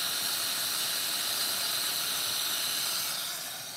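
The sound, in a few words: steam hissing from a cooking pot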